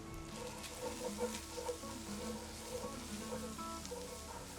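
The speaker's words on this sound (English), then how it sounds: "We're going to give it a good stir." Cajun dirty rice being stirred in a Dutch oven at an outdoor backyard barbecue, with a steady sizzle and scraping spoon strokes, while birds and chickens cluck in the background.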